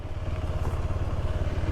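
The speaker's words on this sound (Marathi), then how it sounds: "इथे आपण पार्किंगला आपली बाईक पार्क करूया" A motorcycle engine idles nearby in a parking area at Peru Chi Wadi near Nashik, with a low, steady throbbing rumble, running continuously through the short clip.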